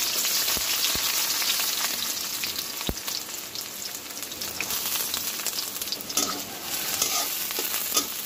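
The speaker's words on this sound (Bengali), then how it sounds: "আর এখানে চুলায় একটি কড়াই দিয়েছি, তেল দিয়ে দেব 50 গ্রাম মতো, পেঁয়াজ কুচি দিয়ে দেব হাফটা," Chopped onions fry in about fifty grams of oil in a wok on a stove, giving a loud, steady sizzle throughout with a few brief knocks and stirring sounds.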